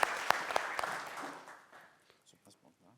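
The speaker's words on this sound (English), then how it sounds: "Give him an applause." Applause from a conference audience at a plenary opening welcomes a speaker to the stage, starting loud with a few sharp claps and quickly fading to scattered claps.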